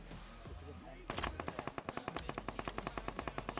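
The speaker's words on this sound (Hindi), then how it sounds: "सामने जाते हैं ये कुछ फायरिंग शॉट" Rapid gunfire from a mobile shooter game, a fast regular burst of about twenty sharp shots in steady rhythm after a quieter start with faint game sounds.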